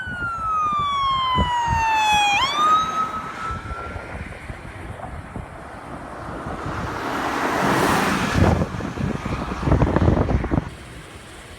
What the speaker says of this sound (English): Now there are police cars coming down this side of the highway,